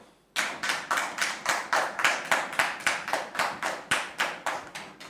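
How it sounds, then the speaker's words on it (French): Rhythmic, even clapping starts abruptly and continues steadily, a regular beat of claps rather than a scattered crowd, with no voices over it. "Merci de recevoir Monsieur Lokoulé sous vos applaudissements, s'il vous plaît."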